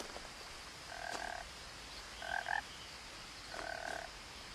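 Three evenly spaced frog croaks in What Remains of Edith Finch, each a short buzzing call roughly a second apart, soft and somewhat distant over faint ambient hiss.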